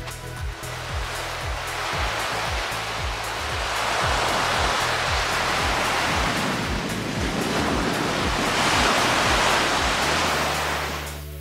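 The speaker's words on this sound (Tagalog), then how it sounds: "Ang maririnig mo lang talaga, dagat at saka hangin." Sea waves and steady wind roar on Apo Reef island in Occidental Mindoro, a broad continuous wash of surf that swells and recedes, with a low rhythmic thumping underneath and no talking.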